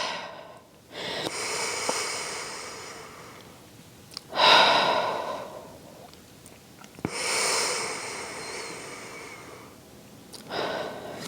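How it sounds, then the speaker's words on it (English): A person on a Pilates mat takes slow deep breaths, drawing air in through the nose and blowing it out through the mouth in several audible, close, breathy cycles, with no talk. "deep inhale through the nose, exhale through your mouth"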